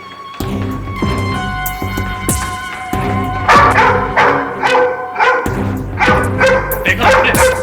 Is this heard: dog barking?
yes